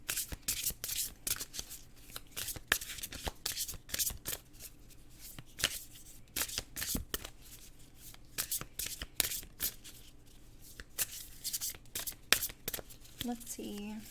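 Tarot cards are shuffled over and over in quick riffling bursts, close and crisp, with short pauses between rounds and a brief voice at the very end.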